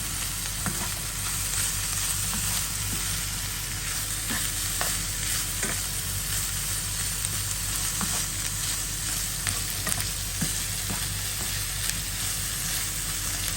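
Pork for kilawin stir-frying in a pan, a steady close sizzle and hiss with scattered scraping stirs and small crackles throughout, no voices.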